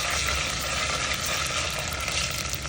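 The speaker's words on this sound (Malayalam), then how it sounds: "ഇനി ഇതിലേക്ക് 1 സ്പൂൺ ജിഞ്ചർ ഗാർലിക് പേസ്റ്റ് ഇട്ട് കൊടുക്കണം. ജസ്റ്റ് മിക്സ് ചെയ്ത് കൊടുക്കണം" Ginger garlic paste sizzles steadily in a hot pan while it is stirred for a fish curry, a dense, continuous frying hiss up close with no talk.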